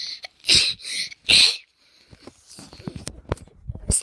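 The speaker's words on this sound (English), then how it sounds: "Sneeze." A sharp burst of two or three quick sneezes, close and loud, followed by softer snuffling and small rustling noises.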